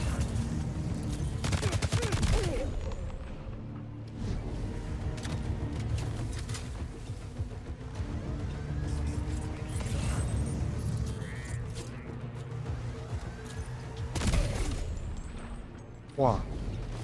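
Gunfire in the video game Death Stranding 2, a dense fusillade of rapid shots and bursts rumbling over a thick battle mix, with someone talking over it.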